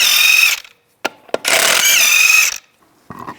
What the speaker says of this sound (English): Use a 19mm socket, take the lug nuts off.